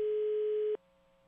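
A steady telephone line tone sounds while a radio show places a call to a listener, a loud single beep holding for under a second before dropping to a faint continuing hum.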